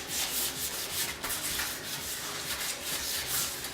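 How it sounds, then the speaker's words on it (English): Cake pan being greased by hand, sides and bottom rubbed with a steady soft scraping and rubbing, close and continuous with short pauses, no voices. "just grease it really good. All the sides and the bottom."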